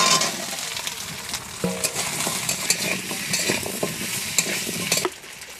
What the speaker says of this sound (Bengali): এইবারে কেটে রাখা কচুটা দিয়ে দিচ্ছি।